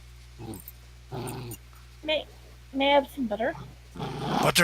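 A dog gives playful growls and short grunting vocalizations in several bursts, close by and fairly loud, interleaved with people talking in a room.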